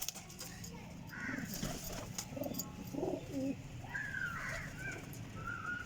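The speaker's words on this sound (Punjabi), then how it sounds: "ਇਹ ਕਬੂਤਰ ਟੈਡੀ ਗੋਲਡਨ ਕਬੂਤਰ ਹੈ, ਬਹੁਤ ਹੀ ਸ਼ਾਨਦਾਰ ਕਬੂਤਰ ਹੈ।" A Teddy Golden pigeon coos in low, throaty notes among other birds, with some higher calls and a faint background hiss.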